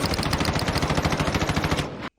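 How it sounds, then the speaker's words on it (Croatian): A yellow M4 rifle in a video game fires a rapid automatic burst into the sky, loud, evenly spaced shots for about two seconds before stopping abruptly. "Ajmo pucati u nebo."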